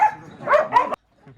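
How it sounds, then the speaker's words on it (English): Shelter dogs bark in several sharp, close barks in quick succession, then a short pause and a faint yip. "But these dogs are under-adopted."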